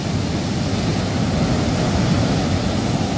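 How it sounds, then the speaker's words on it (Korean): Pacific Ocean waves wash onto a beach where surfers are out, a steady, broad roar of surf close by with no voices heard. "파도가 오늘 좀 있어요."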